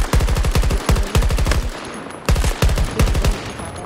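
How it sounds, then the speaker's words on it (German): Bursts of automatic gunfire in Battlefield 2042, loud and close, come in rapid rattling volleys with brief pauses between them, as if aimed at the player. "Und da schießt doch einer auf mich, oh Mann."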